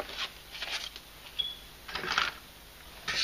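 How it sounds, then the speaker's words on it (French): An inexpensive small craft punch cuts tiny star shapes from glitter paper, giving several soft crunching clicks spaced across a few seconds, close but quiet over a faint steady hiss. "Et je découpe également des petites étoiles dans mes papiers paillettes."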